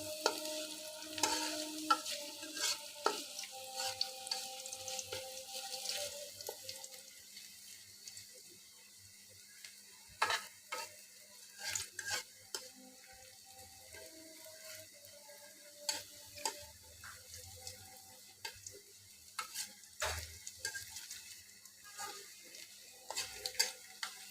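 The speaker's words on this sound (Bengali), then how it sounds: "আমি নেড়ে চেড়ে ভালোভাবে ভেজে নিয়েছি" Tempering spices for a pumpkin and Malabar spinach dish fry quietly in a pan while a spoon stirs and scrapes in irregular bursts, with clinks and short pauses between strokes.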